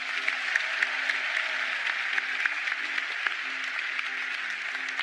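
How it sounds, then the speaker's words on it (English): A studio audience at a televised talent show applauds two performers, a fairly distant, even patter of many hands with scattered sharper claps standing out, sustained at a moderate level throughout. "How about a big round of applause for both of them?"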